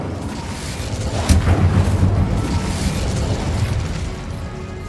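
An Incendio fire spell cast in Hogwarts Legacy: a single sharp burst with a whooshing boom at the moment of casting, over a loud, continuous rushing roar.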